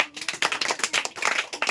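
A small group, likely children in a classroom quiz, claps for a child's correct answer, a brief burst of quick, uneven handclaps at moderate volume.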